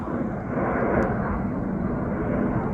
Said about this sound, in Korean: 저 비행기 그렇게 찍고 싶었던 비행기가 왔는데